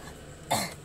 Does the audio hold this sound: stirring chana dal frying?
no